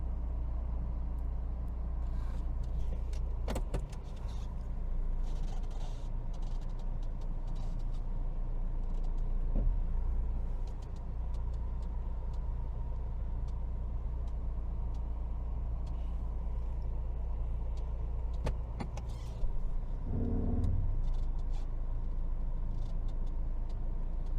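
A 2017 BMW X1 sDrive18d 2.0 diesel engine hums low and steady at idle throughout, muffled and even, with a few faint clicks and knocks over it.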